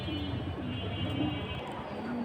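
Soft, low coos from a Lalpatti flying pigeon repeat a few times against a constant murmur of background noise.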